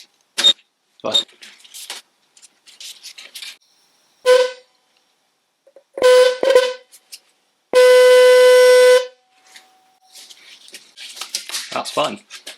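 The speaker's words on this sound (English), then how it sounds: "So all I want to do is see if it makes a noise." A restored Lucas 9H car horn from a 1970 Triumph Herald 13/60 blares in short honks and then one long, loud blast, separated by quiet pauses, with clattering handling noises and faint talk around it.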